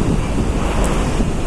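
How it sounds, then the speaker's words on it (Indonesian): Sea waves and wind heard from aboard the passenger ship KM Kirana VII on the Surabaya to Lembar crossing, a loud continuous rush of surf and wind buffeting the microphone. "Ini kondisi lautnya ya."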